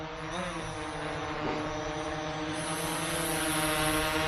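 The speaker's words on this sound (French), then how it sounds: "Le drone fait un RTH et il va se poser." An XMRC M11 Turbo drone flies nearby, its propellers making a loud, steady buzzing whir with a slight rise in pitch and intensity over several seconds, with no talk.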